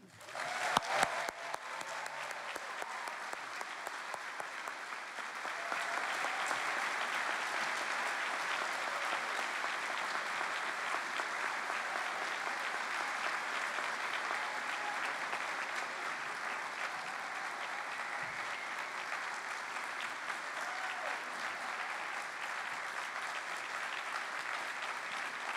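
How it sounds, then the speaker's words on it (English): Sustained applause from an audience at an MIT awards ceremony honoring Ellen, steady clapping that swells after a few seconds and continues evenly for over twenty seconds, heard from a moderate distance. "Let's have a big round of applause for Ellen."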